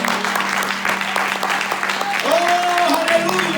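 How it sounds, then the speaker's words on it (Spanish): A church congregation claps steadily as a dense, continuous round of applause, with a held musical tone and a voice emerging near the end. "Denle un aplauso al Señor Jesucristo."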